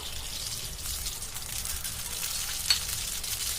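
Mustard seeds sizzle in hot oil in a pan while potato palya cooks, giving a steady hiss of frying with faint crackle throughout and one brief sharper pop near the end, with no talking.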